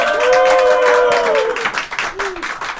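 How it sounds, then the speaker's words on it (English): Studio audience applauding the Germany 3 balloon team, a dense burst of clapping under a voice that fades out after about a second and a half. "Let's give a big round of applause for Germany 3."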